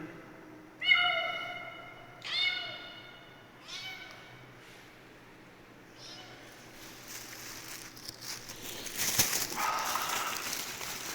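A hungry stray kitten out in the rain gives four plaintive meows, the first loudest and the rest fading, followed by rustling and patter as rain noise rises.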